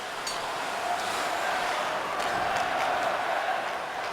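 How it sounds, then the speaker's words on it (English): A hockey arena crowd at a Carolina Hurricanes versus Pittsburgh Penguins NHL game roars steadily and evenly, a continuous wash of cheering that holds throughout without easing. "And the crowd trying to get the Penguins into the game now."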